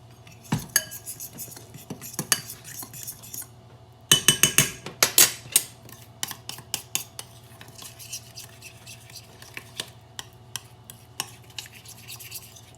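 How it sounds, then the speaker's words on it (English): A utensil stirs food around a pan with olive oil and cumin, making sharp metallic clinks and scrapes in uneven bursts, busiest in the middle and then thinning to scattered taps over a low background hum. "Stir all this up"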